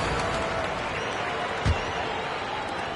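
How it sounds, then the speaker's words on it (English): Crowd applause in an NBA 2K22 basketball game, a steady wash of clapping and cheering from a virtual arena crowd that holds evenly for three seconds, with a brief low thump partway through. "One more round of applause for your performers."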